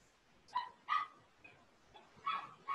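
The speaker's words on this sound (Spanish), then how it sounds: "es mi perrito, ya, que está ladrando allá abajo" A small dog barks from downstairs in a house, several sharp yips spaced about half a second to a second apart, somewhat distant and faint against a quiet background.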